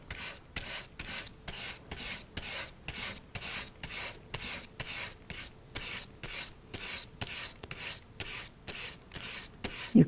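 A brush scrubs back and forth over colored pencil on paper in a steady rapid rhythm, close and dry-sounding rasping strokes repeating about twice per second with no talking.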